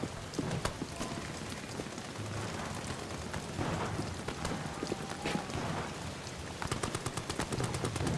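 Gunfire in the horror game Amnesia: The Bunker, muffled cracks and rapid popping over a dense rumbling background, fairly faint with a quicker burst of shots near the end.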